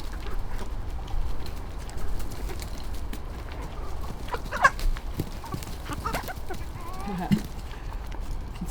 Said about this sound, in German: Und jetzt haben wir Hühner.